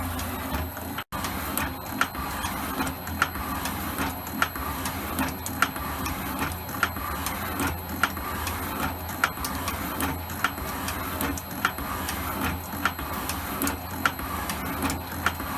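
Steady mechanical noise from an Elliott 10M metal shaper with a regular ticking stroke about every second, a continuous metal-cutting drone in a workshop, no talking.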